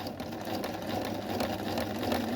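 A sewing machine runs steadily while stitching a seam, its foot pedal pressed slowly, giving a continuous close mechanical hum with a fine rapid needle rhythm and no speech.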